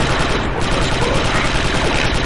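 Dense, rapid blaster gunfire from Star Wars Republic Commando, loud and continuous bursts overlapping throughout with no pause.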